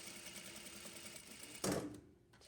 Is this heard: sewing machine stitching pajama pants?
yes